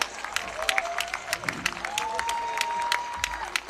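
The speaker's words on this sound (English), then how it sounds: "give them one more round of applause" Crowd at a 10U baseball state championship game applauding the teams: scattered, uneven clapping with some cheering and a faint whistle-like tone running under it, fairly close.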